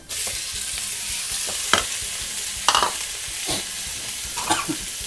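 Eel stir-fried with aromatic herbs and spices in a hot pan, giving a steady loud sizzle broken by a few sharp scraping stirs, close up with no talking.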